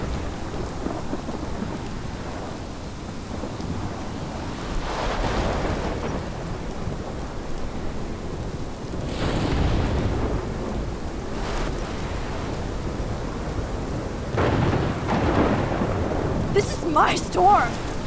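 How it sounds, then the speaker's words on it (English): Thunderstorm in Life Is Strange Remastered: steady heavy rain with rolling thunder claps swelling several times, loud and close, with faint voice sounds briefly near the end. "My storm!"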